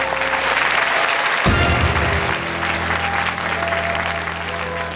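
An audience at a live magic show on a talent program claps steadily, mid-level and continuous, with a low thud partway through and a slight drop in intensity toward the end.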